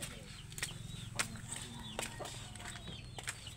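Chickens clucking in short bursts amid a busy farmyard, with a steady low rumble and scattered sharp calls throughout.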